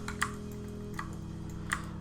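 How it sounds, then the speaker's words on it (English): Computer keyboard typing during 3D modeling work, sharp isolated key clicks, three distinct taps spaced irregularly over a low steady hum, fairly close and moderately loud with no talking. "my keyboard's a little loud"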